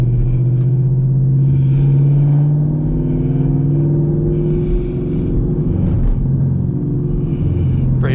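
Chevrolet Camaro SS engine revving hard under load as the wheels spin, a deep steady rumble holding close and loud throughout with a brief dip midway and occasional voices underneath.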